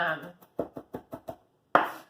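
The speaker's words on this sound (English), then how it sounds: "chopping garlic. I like it pretty finely minced" A knife finely minces garlic on a board in five quick, evenly spaced strokes, then one more sharp chop after a pause, following a brief voice.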